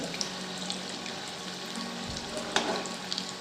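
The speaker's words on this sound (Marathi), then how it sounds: "गॅसची फ्लेम मी मंदच ठेवली आहे कमीच आहे म्हणजे छान आतून तळल्या जाते" Bhaji fritters frying in oil over a low gas flame give a steady, soft sizzle throughout, with a brief louder crackle near the end and no voices.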